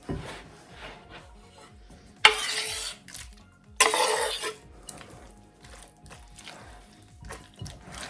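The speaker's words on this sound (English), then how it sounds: "let's fold in our pickles" A spoon folds chopped pickles into chicken salad in a bowl, with soft wet stirring and a couple of sharp clinks of utensil against the bowl, close and fairly quiet.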